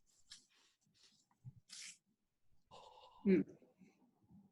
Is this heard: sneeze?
yes